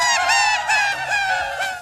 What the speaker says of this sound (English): sped up to sound like a seagull.